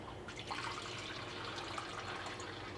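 Fresh water pours steadily into a pet snake's water bowl, a soft continuous splashing fill heard alone at close range.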